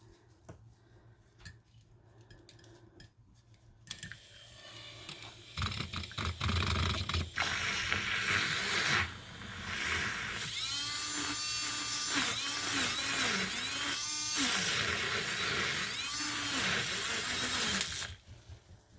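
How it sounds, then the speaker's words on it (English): An electric milk frother whisks cappuccino mix with hot water, a high thin buzzing whir that starts after a quiet moment, runs steadily for several seconds with slight pitch shifts, then stops abruptly. "So I'm just adding some hot water to this cappuccino mix. Now, it's supposed to froth."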